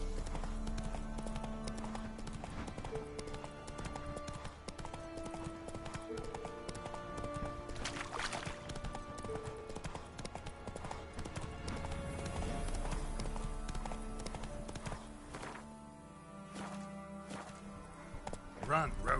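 Roach the horse galloping in The Witcher 3 video game, a steady rapid clip-clop of hooves running under continuous game music and ambience, with a rider's voice over it.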